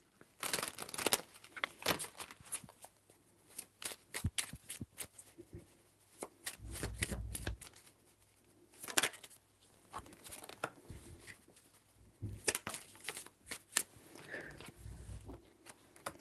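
Oracle cards being shuffled for a tarot-style reading, with soft papery riffles and slaps coming in irregular bursts and short pauses, fairly quiet and close, with no talk over them.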